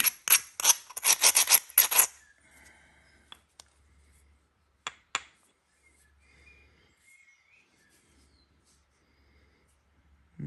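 Abrading the edge of a chert flake during knapping gives a rapid run of harsh, dry rasping strokes up front, then a couple of isolated scrapes after a pause, close and loud against near silence.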